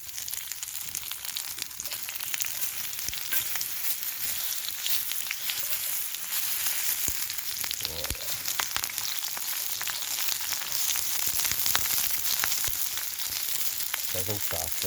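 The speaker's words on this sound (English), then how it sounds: "first in, onions, ready for the sizzle." Onions sizzle steadily in olive oil in a pan set over a campfire at a wild forest camp in Scotland, a continuous close crackling fry with scattered pops and stirring scrapes.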